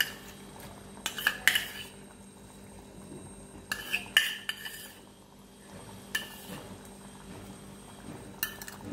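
Cream is stirred into palak paneer in a pan with a metal spoon, making intermittent clinks and scrapes against the pan in short bursts. Quiet stretches of low simmering fill the gaps between them, close up and without speech.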